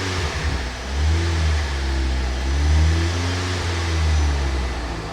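An Audi engine with mechanical damage revs up in a few surges over a rough idle while thick smoke pours out, loud and close with no talking.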